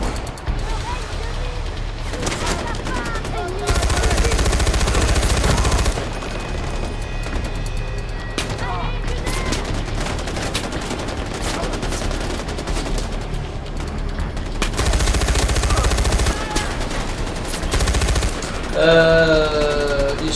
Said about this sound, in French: on va rester sur la tourelle, elle est assez dévastatrice